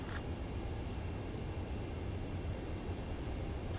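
Steady, even roar of a jet aircraft engine on landing approach in Ace Combat 7, a constant broadband rush with no breaks, fairly quiet and unaccompanied by speech.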